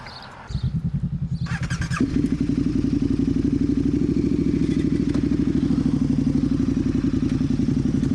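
Motorcycles riding on a road trip, heard from on board: a quiet start, then an engine kicks in with a loud, rapid throbbing pulse that thickens and holds steady at close range, with no talk.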